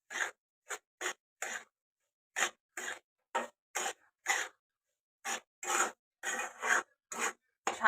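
Semolina roasting in ghee in a pan, stirred with a spoon: repeated short scraping, rasping strokes in an irregular rhythm, close and fairly quiet, with brief silent gaps between strokes.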